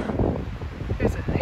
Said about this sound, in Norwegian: Det blåser godt.